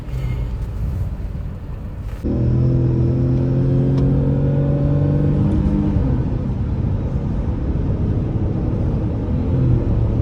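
Tata Nexon and Hyundai Exter engines revving hard during a drag race, a steady loud roar with rising harmonic tones after a sharp jump in level, continuous and close throughout.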